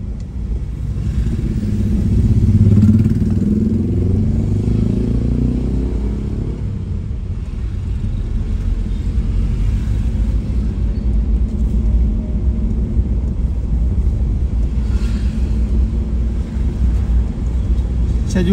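Traffic rumbles steadily along a busy Paccerakkang street, mostly motorcycles, with engines passing and swelling nearby and a continuous low background roar.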